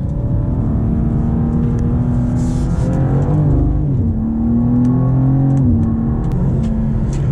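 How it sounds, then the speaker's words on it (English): A 2023 BMW M2 with automatic torque-converter transmission accelerating hard, its engine droning loud and steady with rising pitch as it climbs through gears, a brief dip at a shift, heard from inside the car. "This car, especially with the automatic transmission, is a fast car."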